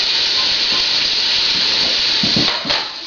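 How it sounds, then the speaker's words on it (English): Onions and garlic sizzle loudly in hot oil for homemade chili, a dense, steady hiss filling the clip with a few soft clatters near the end, close and alone. "Get them in that hot oil. Cut this down a little bit. You get them in that hot oil cooking."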